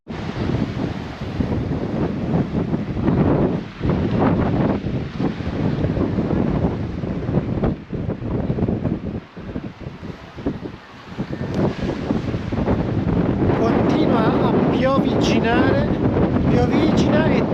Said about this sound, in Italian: Piovigina e tira un vento abbastanza sostenuto, molto sostenuto